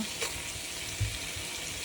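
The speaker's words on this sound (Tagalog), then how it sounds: "After ko nagisa yung baboy natin, tsaka yung sibuyas, ihulog na natin yung luya." Ginger is dropped into a pan of frying pork and onion, giving a soft, steady sizzle with a couple of faint knocks and stirring sounds, close and quiet, with no talking.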